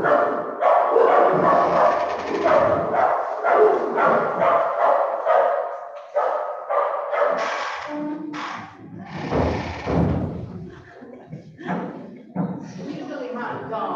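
A dog barks and yips intermittently during an academic lecture on the history of pandemics, its sounds mixing with the lecturer's continuous speech in a room.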